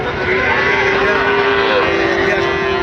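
A loud, close, sustained moo from cattle at the Raniganj livestock market in Dinajpur rings out unbroken for nearly three seconds over a busy background murmur.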